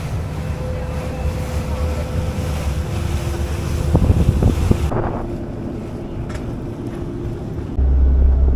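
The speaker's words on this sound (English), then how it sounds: "Very windy." Strong wind roars steadily across the microphone on an exposed island coast near Rörö and Hönö in Sweden, with sea and surf noise beneath and heavier gusts buffeting briefly toward the end.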